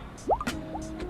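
A couple of quick gurgling bubble pops and a liquid blip as trapped air escapes through coolant while bleeding a Jeep Grand Cherokee's cooling system, over a quiet hum.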